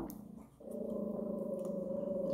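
Dogs growling: a steady, sustained low rumble that dips briefly and then continues unbroken, fairly close and alone, with no talk over it.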